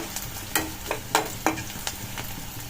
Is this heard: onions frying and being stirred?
yes